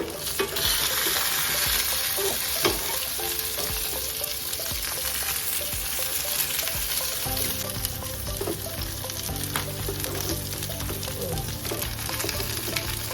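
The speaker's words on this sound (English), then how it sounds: "After this side is roast, then flip it and let the other side roast too." Lamb pieces searing in a pan for a stew, a loud dense sizzle and crackle running throughout with occasional utensil scrapes, close up and steady with no voices.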